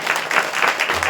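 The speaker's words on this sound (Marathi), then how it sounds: "याच्यासाठी जोरदार एकदा टाळ्या वाजवा" An audience at a devotional kirtan gathering in a Swami Samarth math in Nashik breaks into brief, loud, dense applause, many hands clapping together in a short burst.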